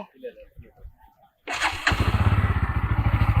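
A 2024 Bajaj Pulsar N160 motorcycle engine cranks with a brief starter whir, then catches and settles into a steady, close, pulsing idle, with a person talking just before it starts.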